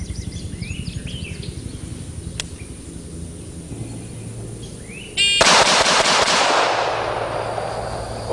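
A Colt .45 ACP pistol fires five rapid rounds at a shooting range, a loud, sudden burst of near-overlapping shots that rings out and decays, preceded by quiet outdoor ambience with faint birdsong.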